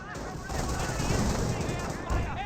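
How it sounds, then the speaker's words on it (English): An MG42 machine gun fires in the World War II strategy game Company of Heroes, a dense, continuous rattling burst amid loud battle noise. "MG42 does find an angle there."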